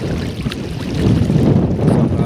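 Strong wind with rain at sea at night buffeting the microphone in a loud, gusty rush, with low rumbling noise that swells and never lets up.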